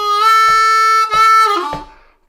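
A G harmonica plays a short lick of a song, with a 4 draw half-step bend released up to the 4 draw: a loud, bright sustained reedy note that bends and fades, with light clicks at each beat.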